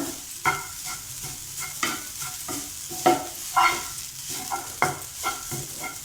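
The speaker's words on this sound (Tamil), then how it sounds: "இதே கடாயில் நம்ம தேங்காவை வறுத்துக்கலாம். தேங்காவை நல்லா பொன்னிறமாக வறுத்துக்கோங்க" Grated coconut roasting in a kadai, stirred with a spatula in repeated scraping strokes over a low continuous sizzle, close and moderately loud, no voices.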